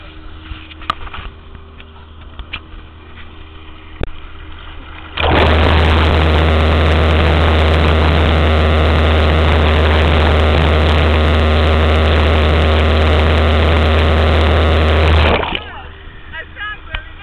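A boat engine hums at idle under scattered voices, then roars loudly and steadily for about ten seconds as the propeller turns, before dropping back to a quieter idle.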